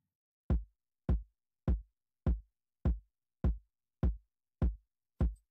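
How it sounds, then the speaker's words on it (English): Heavy basic kick drum from Ableton Live's stock sounds, struck alone nine times at a steady pulse about every half second, each hit a deep punchy thump with a quick decay and silence between. "The kick alone sounded like this, just the basic kick."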